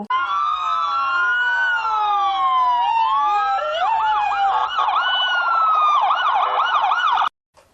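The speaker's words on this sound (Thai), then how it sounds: "ส่งรถพยาบาลมาด่วนเลยครับ" A loud, close cartoon ambulance siren wails with a rising and falling tone, then shifts into a faster warbling pattern before cutting off abruptly.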